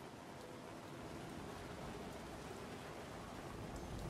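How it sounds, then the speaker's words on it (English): Steady rain falls during a practice session on the Singapore street circuit in the F1 2016 racing game, a dense, even hiss of drops with no other sound standing out. "The rain is falling for the start of today's practice session"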